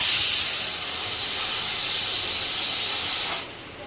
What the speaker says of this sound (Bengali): তো এখানে আমি ১ম এ একটু হুইসেল দিয়ে নিব